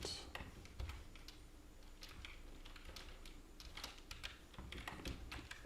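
Keys clack in a steady stream of quick, uneven taps on a computer keyboard while code is typed, fairly close and moderately quiet over a faint room hum.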